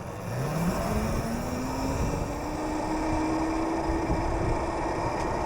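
Oryxearth electric mini bike for kids running at full throttle on its low speed setting, a rising motor whine that climbs and then holds a steady pitch over constant wind and road rumble, close and fairly loud, no talking.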